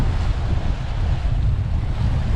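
Waves wash onto a beach by Setúbal's wharf area in a continuous close roar, heavy with wind buffeting the microphone, with no talk.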